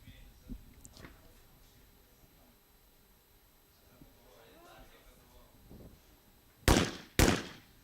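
Two sharp shotgun reports fired in quick succession at a reverse pair on station 5 in a skeet final, loud and close near the end, after quiet commentary talk and faint background noise.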